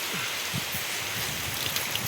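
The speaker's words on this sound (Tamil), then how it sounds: "மழையும் பேஞ்சிக்கிட்டு இருக்குது." Rain falls steadily outdoors at a borewell site during installation of a 5 HP three-phase motor pump, a continuous soft hiss with scattered drops, close and fairly even throughout.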